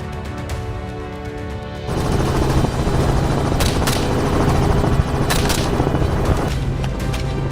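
A helicopter flies during a wild boar hunt, its dense rotor and engine roar swelling suddenly louder partway through and holding steady, with sharp cracking bursts like gunfire cutting through it.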